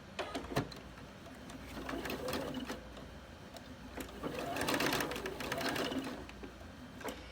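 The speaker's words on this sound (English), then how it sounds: "we're going to straight stitch back and forth right across this" A sewing machine runs a straight stitch back and forth across elastic for a scrunchie, a faint steady mechanical whir with rapid needle clatter that swells and eases as it sews and reverses, close by with no talk.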